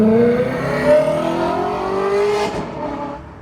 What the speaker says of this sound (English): Naturally aspirated V8, holy.